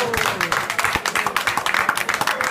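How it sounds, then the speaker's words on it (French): Brief round of applause from a small audience after a magician's coin trick at a cocktail or wedding show, scattered claps fairly close, with a voice talking over them. "on peut applaudir le magicien parce que les 4 pièces sont passées"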